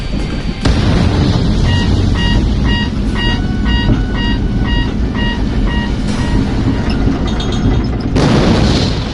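Missile strike and fighter jet going down in an Ace Combat-style aerial combat game: loud, dense rumbling explosions with repeated beeping lock-on tones over the roar, ending in a final burst.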